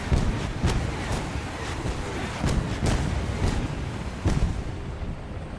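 A BM-31 Super Katusha rocket launcher fires in War Thunder, a run of repeated thumping launch blasts at irregular intervals over a continuous rumbling battlefield din, with no voices.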